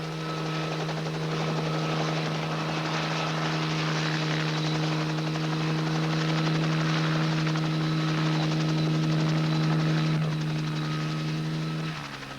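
A helicopter drones steadily and fairly close, a constant rumbling hum that holds even throughout and eases slightly at the very end.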